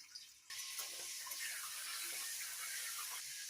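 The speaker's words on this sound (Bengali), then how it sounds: "এবার চিংড়ি মাছগুলোকে ভাজতে দিচ্ছি" Salted prawns drop into hot oil in a wok, and after a faint start a dense, even crackling hiss rises and holds steady close by.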